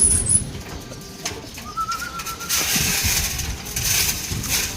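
A racing pigeon coos softly while eating, a brief low call heard among steady background noise and scattered clatter.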